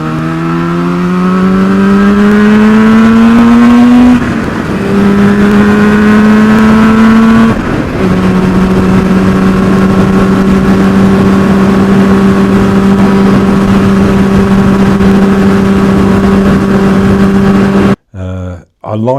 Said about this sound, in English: I like the sound of the 70s two-stroke.